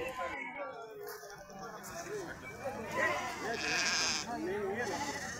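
Sheep and goats bleating at a Thursday-morning livestock market in Punganur, several wavering calls near and mid-distance, under people talking and crowd noise.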